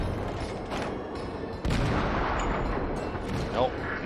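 Enemy warship guns firing in World of Warships, a loud booming salvo that strikes suddenly partway through over a constant bed of engine and sea rumble, followed by a smaller burst near the end.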